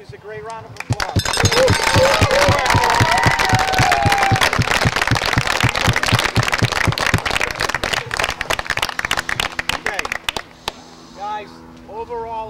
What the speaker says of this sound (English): How about we give the cheerleaders a great round of applause?